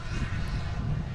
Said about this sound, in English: we have an A330-900 heading out to runway 4 right